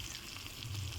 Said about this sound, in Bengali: প্রথমে আমি তেলের মধ্যে কিছু আইড় মাছ ভেজে নিচ্ছি